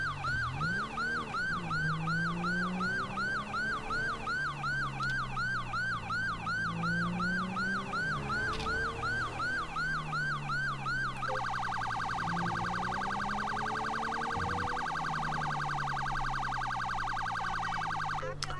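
Police car siren in GTA 5 wailing loudly and continuously, sweeping up and down before switching to a faster yelp pattern, with a vehicle engine droning underneath.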